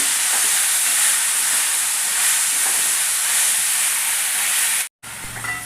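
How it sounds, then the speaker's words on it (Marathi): Vegetables and cumin sauté in hot oil in a kadhai, making a loud, continuous frying hiss that cuts off abruptly near the end and returns more softly. "कढईमध्ये थोडंसं तेल घेतलं त्यामध्ये जिरं घालायचं आणि त्यामध्ये भाजी थोडीशी परतून घ्यायची"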